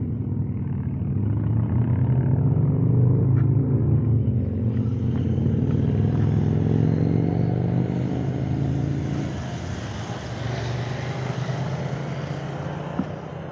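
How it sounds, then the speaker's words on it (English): Motorcycles, including BMW GS 1200 and 1250 boxers and Harleys, ride the Bormio side of Stelvio Pass, a steady loud engine rumble and drone passing near and lingering, with no talk. "And also there's no shortage of Harleys here."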